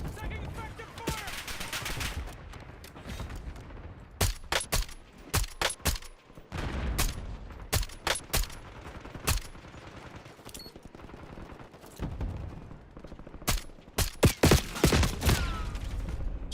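Bursts of gunfire in Call of Duty Warzone, with sharp shots coming in irregular clusters and pauses that grow denser toward the end, over game ambience and a radio voice.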